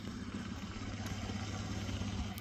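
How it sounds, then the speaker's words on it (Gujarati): A motorcycle engine runs close by with a steady, unbroken mid-pitched drone and light rattling, holding at constant loudness throughout with no voices. "કોક આવેરું બાઇક નો અવાજ આવે રહ્યો"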